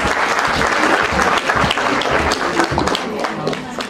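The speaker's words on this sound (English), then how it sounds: "Give her a huge round of applause" An audience at a DAV College for Girls prize distribution ceremony gives a loud, dense round of applause for an award winner, the clapping sustained throughout and easing slightly near the end.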